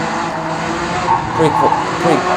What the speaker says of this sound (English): I'm pretty good at braking through here